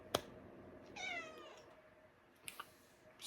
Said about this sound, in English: I don't need a cat sitting right here being adorable to distract me